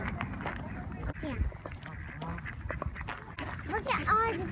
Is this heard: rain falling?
no